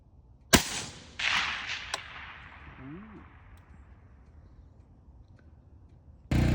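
A 22 ARC rifle fires at an outdoor range: a sharp, loud crack with a long echoing tail, then a second report, a faint click, and another abrupt shot at the end.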